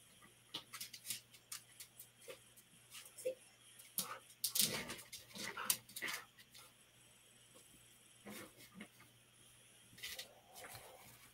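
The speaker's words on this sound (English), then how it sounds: "Listen, dogs stay begging." A dog begging during beef roast canning in a home kitchen, with soft whimpers and short yips scattered through the clip against quiet room tone, rising in a busier stretch midway, with no clear talk.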